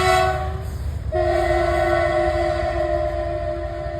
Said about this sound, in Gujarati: ના ના, માલગાડી છે.